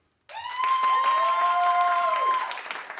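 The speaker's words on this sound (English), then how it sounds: "Clap for Brian." Studio audience at a talk show bursts into clapping and cheering after a short silence, loud and sustained with high whoops on top, then tapering toward the end.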